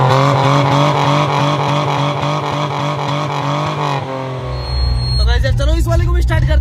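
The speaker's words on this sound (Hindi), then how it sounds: "साइलेंसर है वो भी कट चुका है, कटने की वजह से इसकी जो आवाज है वो किसी रेसिंग कार की तरह है" A car engine with its silencer cut off revs loudly and raggedly like a race car, a steady harsh drone that shifts in pitch near the end, with people talking over it.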